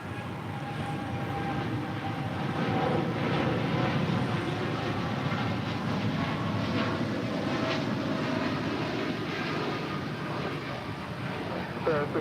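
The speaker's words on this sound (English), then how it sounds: "Japan Airlines Flight 61 now rolling on 25 right. It's a 787-8 Dreamliner taking off to Tokyo Narita." Japan Airlines Boeing 787-8 Dreamliner taking off from runway 25 right at LAX, a loud sustained jet engine roar with steady broadband rumble throughout, heard from near the runway.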